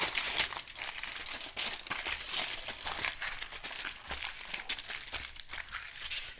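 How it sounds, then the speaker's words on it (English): A sheet of aluminum foil is crinkled onto a small baking sheet, giving a continuous close, faint crackling and crumpling for several seconds with no talk. "a sheet of aluminum foil."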